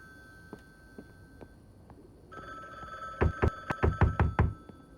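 A loud telephone rings in The Bookwalker: Thief of Tales video game, starting after a soft knock, its tone first holding, then breaking into a run of sharp, rhythmic bursts.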